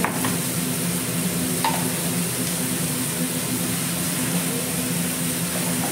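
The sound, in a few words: tomatoes and salt cooking in a pan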